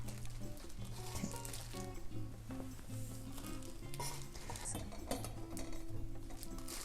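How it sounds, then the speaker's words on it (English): Kimchi squeezed by hand to wring out its juice for dumpling filling gives a steady, soft wet squelching and dripping patter, close and continuous throughout. "Squeeze out all the juice from the kimchi."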